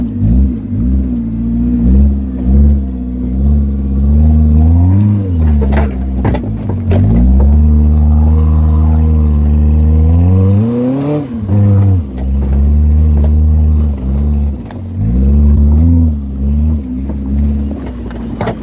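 Custom off-road Kia Morning engine revving hard during an extreme test drive, loud and close, rising and falling in repeated surges with a rough rumbling tone and no talking over it.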